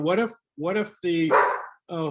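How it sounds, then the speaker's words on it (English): A dog barks several times indoors during an online photo editing class, loud, close barks mixed in with a person talking. "sorry about the dog."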